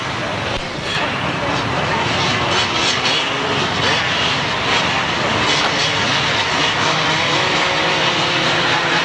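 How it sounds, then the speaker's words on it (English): 250cc two-stroke motocross engines at the 1996 British Grasstrack Championships make a loud, continuous, dense roar with no break, while a commentator talks over it. "Most of these guys these days using 250 motocross engines, of course."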